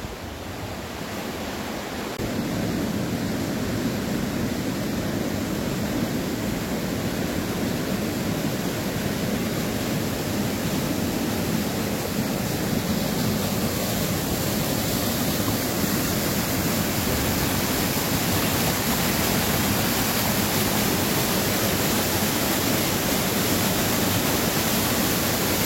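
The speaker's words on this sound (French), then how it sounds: "la rivière est déchaînée" A raging river in full spate, a dense, loud, continuous roar of rushing water that swells after the first couple of seconds and then holds steady with no voices.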